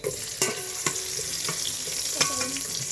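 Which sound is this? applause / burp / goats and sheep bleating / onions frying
onions frying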